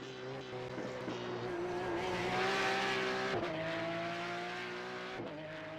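Porsche 911 GT3 Cup race car driven in the iRacing simulator, engine droning steadily at high revs with pitch shifts at gear changes and brief tire squeal from locking fronts, loud and continuous.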